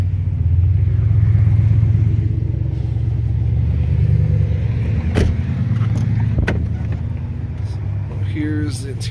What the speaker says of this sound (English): My dad taking off with my old truck.